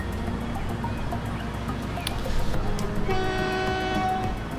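Train in the Transport Fever 2 game rumbles past with a continuous rolling clatter, a brief squeal, then a sustained horn blast near the end, heard up close with no talk.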